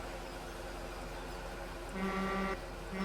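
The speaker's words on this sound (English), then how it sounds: "it is the one with the air horn" A truck's air horn gives a few short, faint honks in quick succession, then another brief toot after a pause, over a quiet, steady engine drone.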